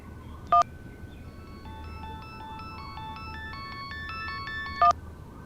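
A phone number being dialed, a string of short electronic keypad tones stepping up and down at a steady pace, framed by two brief louder beeps at the start and end, with no voices.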